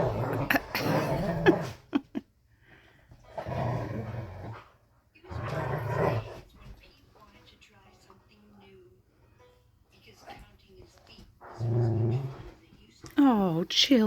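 Dogs playing together outdoors, with low growls, grumbles and occasional whimpers scattered among stretches of nearby human talk, the animal sounds fairly faint and intermittent between the speech.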